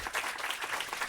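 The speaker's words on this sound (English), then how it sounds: "A big round of applause to Mona Fawaz," Audience at an urban policy panel debate breaking into a round of applause, dense even clapping from many hands filling the room, moderately loud and steady throughout.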